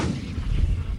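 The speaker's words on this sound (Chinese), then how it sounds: "炮声" Artillery fire booms in a continuous, deep, heavy rumble of overlapping low blasts, fairly loud, with no voices.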